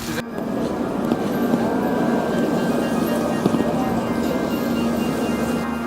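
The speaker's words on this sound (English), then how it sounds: "Raining so hard right now." Heavy rain pours steadily in Kyoto, a dense even hiss of drops hitting surfaces close by, continuous and loud for the whole stretch without a break.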